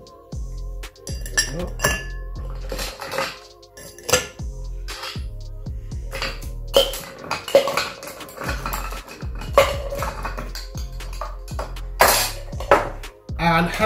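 Ice cubes rattle hard in a tin shaker as an Old Cuban rum cocktail with lime juice, gomme and mint is shaken, with loud rhythmic clattering bursts across the whole stretch and a voice speaking in between.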